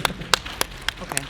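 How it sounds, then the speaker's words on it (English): A sparse audience claps for a speaker at a talk: about six separate sharp claps, spaced and uneven, close and fairly loud over a quiet room. "let's give this gentleman another round of applause"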